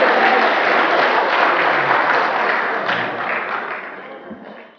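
A crowd of students and guests claps at a school debate competition. The applause is loud and continuous, then gradually fades out toward the end.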